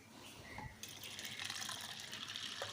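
A glass of water poured over pigeon pea lentils in a pot, a quiet close gush that starts abruptly and runs steadily for a couple of seconds, with no voices.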